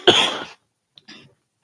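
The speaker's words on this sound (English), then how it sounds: "A little bit of a cough." A person coughs once, harsh and close, then gives a short second cough or throat-clear after a brief pause.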